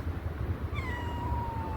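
A single drawn-out cat meow, fairly quiet, rises over a soft background hum.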